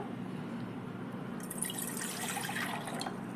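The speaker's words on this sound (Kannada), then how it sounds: "1 ಬೌಲಷ್ಟು ನೀರು ತಗೋತಾ ಇದ್ದೀನಿ ನಾನು." A bowl of water is poured out, starting as a quiet trickle and swelling into a brighter splashing flow in its second half, close by and with no talk.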